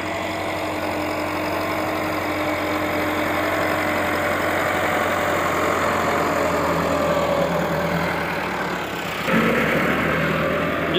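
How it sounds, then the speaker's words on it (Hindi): A tractor engine runs steadily while a chisel plough cuts deep into a field, giving a continuous loud, rough drone with a shift in tone near the end and no voices. "वो देखें हमारा ट्रैक्टर चल रहा है"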